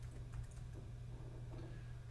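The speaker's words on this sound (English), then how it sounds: "What you want to type in then is webgl" Fingers tap out text on a computer keyboard as quick, soft, close keystrokes over a steady low electrical hum, with no voices.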